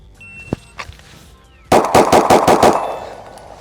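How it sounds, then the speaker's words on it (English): A customized Glock handgun fires a rapid string of six loud, close gunshots in quick succession after a few faint clinks. "Now let's try it with the Gucci Glock."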